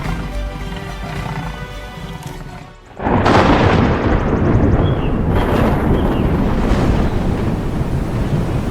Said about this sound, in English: the heavy rain pours down, thunder splits the sky, and the wind thrashes through the canopy